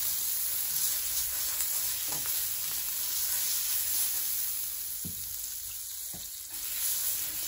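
Butter sizzling in a frying pan before whole-wheat pancake batter goes in, a constant bright hiss with a few faint knocks of utensils against the pan.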